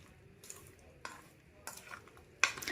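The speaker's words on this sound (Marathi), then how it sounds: "एक वाटीभर पूर्ण तेल टाकून व्यवस्थित मिक्स करूया" Oil mixed into amla pickle, a small bowlful stirred through with a spoon, giving a few soft scraping strokes against the container with quiet gaps between and a louder scrape at the end.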